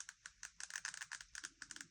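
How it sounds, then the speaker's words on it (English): Big buttons on a mobile phone with a large display are pressed in a quick irregular series of crisp, close plastic clicks with short pauses between them. "We've got very clear and big buttons, and they do click rather nicely."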